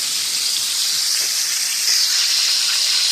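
Chicken pieces deep-frying in hot oil give a loud, steady close-up hiss and bubbling sizzle that runs continuously with no talk.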